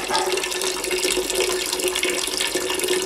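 Water running steadily from a village fountain into a tank in central Moldova, a constant loud splashing rush that stays even throughout, heard close with no voices.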